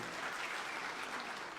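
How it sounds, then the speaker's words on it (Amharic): An audience at a public speaking event applauds warmly for Yared Tibebu, a dense, steady wash of many hands clapping, moderately distant, with no voices over it. "ለአቶ ያሬድ ጥበቡ አንድ ሞቅ ያለ ጭብጨባ አድርጉልኝ።"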